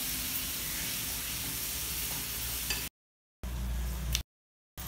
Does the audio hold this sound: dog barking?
no